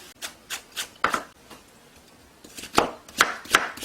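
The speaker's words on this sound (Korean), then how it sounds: "무는 하나 정도 작은 거 채 썰어서 넣어주겠습니다" Radish being cut into thin strips with a knife for napa cabbage kimchi, a run of crisp, evenly spaced chopping taps, a brief lull, then a faster burst of cuts, close and clear with no talking.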